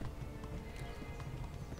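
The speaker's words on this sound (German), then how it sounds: "Komm, Pferd, lauf. Lauf, Gaul, lauf." Horse hooves gallop in Kingdom Come: Deliverance, a quick steady clip-clop of several beats close up, with a faint snort or whinny over a dense ground of game noise and no talking.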